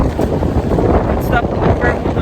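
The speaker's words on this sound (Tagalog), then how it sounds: "Naririnig nyo siguro or napapansin nyo sobrang lakas ng hangin." Strong wind buffets the microphone during a downhill drive toward Baguio in a Suzuki S-Presso, a loud, steady broadband roar running throughout.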